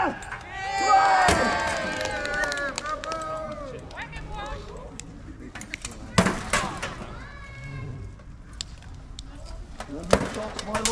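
A crowd at a medieval fighting tournament cheers and shouts in bursts alongside loud calls from a nearby voice, with occasional sharp impacts and clatter underneath the noisy, lively mix.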